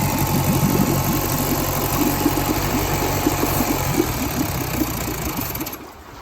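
A 1952 Johnson outboard engine under repair idles steadily at low speed with a rapid, even chugging, loud and close, as carb cleaner is sprayed on its gaskets, before dropping off near the end.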